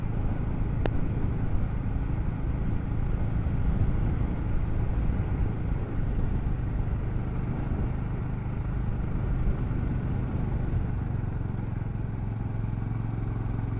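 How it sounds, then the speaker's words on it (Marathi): Steady, close motorcycle engine drone while riding on a quiet country road near Pawna Dam, a continuous low rumble with a single brief tick near the start and no talking. "Just feel the bike sound."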